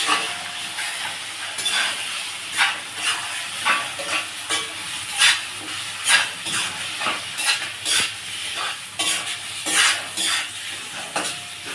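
Mango paste fries and spatters in a pan, continuous hissing broken by repeated scraping bursts as a utensil stirs it in an uneven rhythm, no talking.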